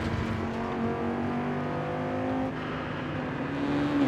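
A 2020 Mercedes-AMG C63 S in Forza Horizon 5 holds a steady, loud engine drone with clear harmonic tones that dip briefly midway and then climb again as the revs rise near the end.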